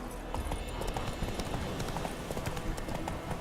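A horse's hooves clip-clop in a quick galloping rhythm in The Witcher 3, with steady, fairly close hoofbeats running the whole way through.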